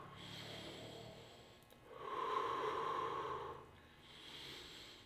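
Heavy, deep breaths after a cold plunge in contrast therapy, a slow rhythm of long exhales and inhales, close and fairly quiet, with no talking.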